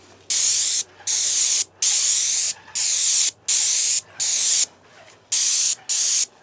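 A paint sprayer coating a house exterior, firing in long hissing bursts about a second each, separated by short pauses, close and loud with no talking.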